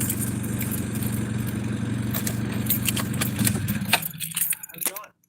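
Car keys jangle and clink in bursts toward the end, over a low steady hum of a running car, with a voice talking underneath.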